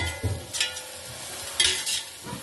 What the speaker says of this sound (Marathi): आणि आता हवं टोमॅटो प्युरी घालता